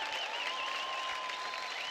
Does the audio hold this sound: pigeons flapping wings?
no